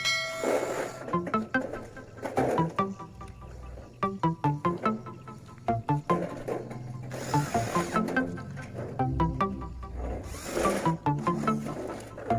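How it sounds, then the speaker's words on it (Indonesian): A power drill whirs in repeated short bursts, driving screws into light steel canopy framing with clanks and knocks between runs, close by. "kita bor di bagian samping sambungan"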